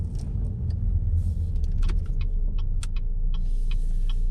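Car driving along with a constant low engine and road rumble, punctuated by small clicks and rattles from inside the cabin.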